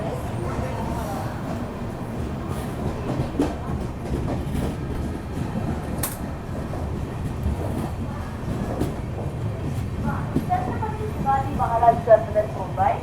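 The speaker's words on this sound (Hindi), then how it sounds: "अकोला जंक्शन से अपनी ट्रेन निकल चुकी है" Mumbai Howrah Duronto Express pulling out of Akola Junction, a steady low rumble of rolling carriages with rhythmic wheel clatter throughout, while voices talk over it.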